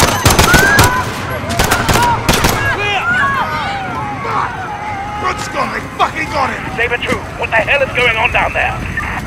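Gunfire erupts in a Modern Warfare shootout at Piccadilly Circus, London, with dense bursts and single shots crackling loudly over shouting voices and chaotic background noise, sharp cracks clustering early then scattering through the scene.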